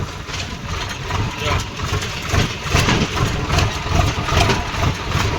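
A tractor engine idling nearby at a steady low rumble with a slightly uneven throb, while people talk over it.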